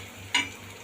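Onions frying in a pan for a Kerala-style fish curry: a soft, steady sizzle with one brief stirring scrape partway through, close and fairly quiet.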